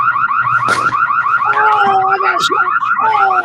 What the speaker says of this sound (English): No, Tanner was too busy listening to the alarm, and he got distracted.